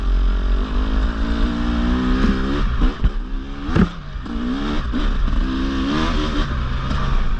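A 2024 Husqvarna 300 TE two-stroke enduro motorcycle engine revs and burbles continuously up close, with throttle blips and dips in pitch as the rider eases off, no talking.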